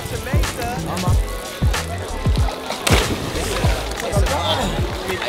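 Repeated heavy splashes of bodies plunging into water after backflips and jumps, loud and close, with sloshing between impacts and some voices around.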